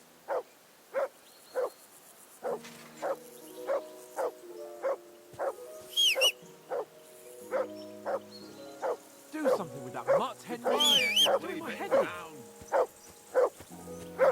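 A dog barks in Kingdom Come: Deliverance II, loud and near, in a steady run of single barks about one per second. Midway, other animal cries and game sounds briefly pile up over the barking.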